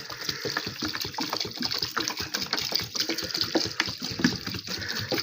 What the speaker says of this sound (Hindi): अब आपने इसमें इतना पानी डालना है कि ये चीज़ें जस्ट इसमें डिप हो जाएं